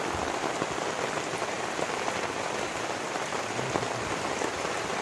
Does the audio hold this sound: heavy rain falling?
yes